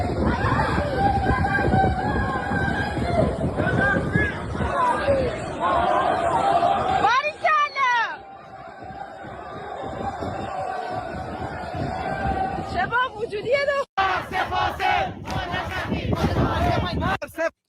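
A large crowd at an Iranian protest shouts and chants together loudly and continuously, a dense mass of voices with a lead voice calling out and the crowd answering in unison.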